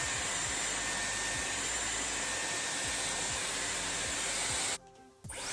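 Dyson Airwrap hair styler blowing air steadily for almost five seconds, a loud constant hiss that cuts out abruptly near the end with a brief quieter gap.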